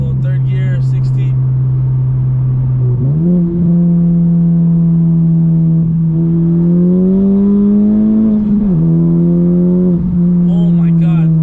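A Honda Civic Type R FK8 running a Stage 2 tune on E85 pulls hard in third gear, a loud steady in-cabin engine drone rising in pitch through the pull with a brief gearshift-like dip, voices talking over it.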